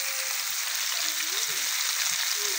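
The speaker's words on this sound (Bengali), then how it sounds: "মাছগুলো আমি কড়া করে ভেজে নেব।" Five pieces of pangas fish fry in hot oil with a loud, dense, steady sizzle throughout, while a voice speaks faintly underneath.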